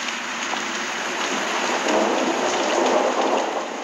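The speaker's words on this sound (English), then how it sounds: "the loudest and most frightening sound here has been the tumult of these violent storms." A violent tropical thunderstorm over an African rainforest, with heavy rain pouring steadily and a deep rumble of thunder swelling in the middle, loud and continuous with no voices.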